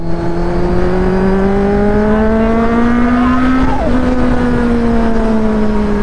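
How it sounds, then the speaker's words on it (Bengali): A Kawasaki Z900 motorcycle engine held on the throttle out on a highway, a loud continuous howl whose pitch climbs steadily, dips briefly, then settles, with no talk. "ভাই চলো ভাই একটা থ্রটেলে মজা দিয়ে দিই তোমাদেরকে"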